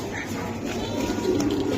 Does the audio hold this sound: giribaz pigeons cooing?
yes